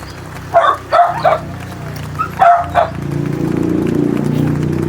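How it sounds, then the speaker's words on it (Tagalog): Dogs bark outdoors in a rural Philippine setting, several sharp barks in two short bursts of three, fairly close, followed by a steady low rumbling background. "Yung mga aso"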